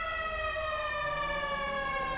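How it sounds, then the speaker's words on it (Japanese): Fire engine siren in GTA 5 with the LSPDFR mod, a steady loud wail with a rising and falling pitch sweep, heard alone without talk. "消防車出動します。"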